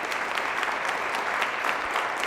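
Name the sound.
studio audience round of applause for students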